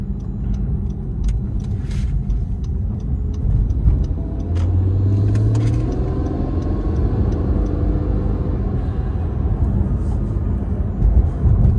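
The twin-turbo V6 of a 2019 Acura NSX Sport Hybrid drones deeply and steadily from close behind, rumbling continuously with a brief rising whine midway and faint clicks, no one speaking over it.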